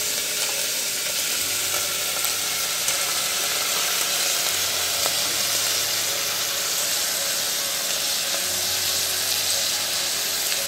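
Chicken frying in a pan for a chicken stew, an even, dense sizzle that runs the whole time with occasional faint stirring clicks, no talking.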